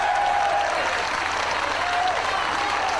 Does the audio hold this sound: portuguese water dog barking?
no